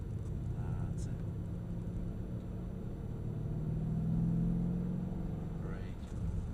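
A Mercedes-Benz E63 AMG is driven on the track at Mercedes-Benz World in Brooklands, with a steady low engine drone and road rumble inside the cabin that swells slightly mid-way, as if accelerating.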